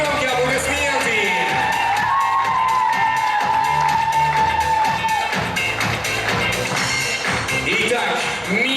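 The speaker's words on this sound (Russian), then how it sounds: "Громкие аплодисменты!" Crowd cheering, whooping and shouting at a university beauty pageant award ceremony, loud and continuous, with an amplified voice and music running through it.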